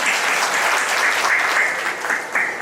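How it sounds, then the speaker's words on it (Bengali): Applause for a factory management team and workers at a company annual picnic, a dense steady crowd clapping that carries on for the whole short stretch. "ওদের জন্য একটা করতালি হয়ে যায়"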